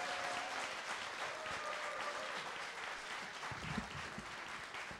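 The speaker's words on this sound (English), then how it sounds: "Stand up and give a round of applause, please." Conference audience applauding in a hall, a sustained wash of clapping that holds steady and tapers slightly toward the end, with faint crowd murmur underneath.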